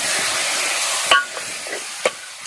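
Mutton sizzles loudly with spices in a pan for about a second, then the hiss drops away and a few sharp knocks and scrapes of stirring follow, close and clear.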